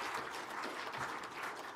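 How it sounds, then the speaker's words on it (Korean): Steady broadband clapping from a church congregation fills the space, sustained and fairly loud without a break, no voices rising above it. "힘차게 박수해 주세요"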